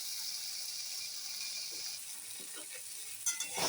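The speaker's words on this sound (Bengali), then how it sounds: "1 মিনিট মতন আমি একটু ভাজা ভাজা করে নিলাম" Stinging catfish fries in oil with spices in a pan, a soft continuous sizzle with a few faint stirring scrapes toward the end and no talk.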